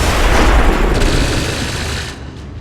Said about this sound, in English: all the explosions and lasers and plasma and bullets flying everywhere